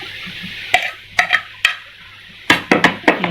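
Mango pieces being added to a fruit chaat with black pepper and salt, heard as a few sharp spoon-and-bowl clinks and soft plops in irregular bursts, close and fairly loud against a quiet room.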